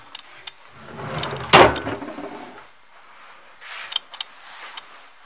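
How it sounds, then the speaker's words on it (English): Metal drawers on good-quality bedroom furniture in a shared house slide open and shut, a sharp central clatter followed by a few softer knocks and rattles close by. "Metal drawers."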